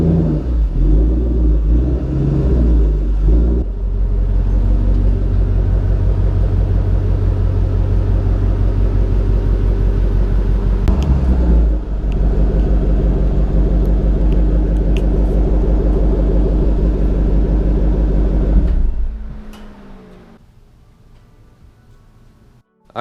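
A 2003 Ford Mustang Cobra accelerates hard at speed, its engine a steady loud roaring drone climbing through the gears for nearly twenty seconds with a brief shift break, then dropping away into quiet.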